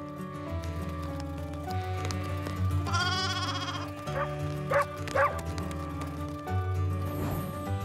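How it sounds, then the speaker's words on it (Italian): Cartoon sheep in a children's animated train show bleat a few times in quick succession over a playful musical score, faint and short calls set against the continuing music. "Pecore molto preziose."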